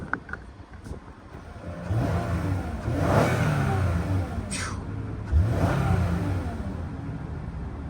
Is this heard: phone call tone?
no